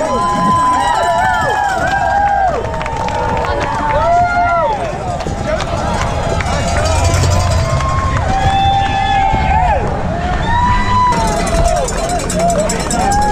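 A lively crowd lines the finish of the Dirty Kanza 200 gravel race and cheers the arriving riders. Steady, dense babble and shouts fill the whole stretch, with music and scattered voices mixed into the continuous noise.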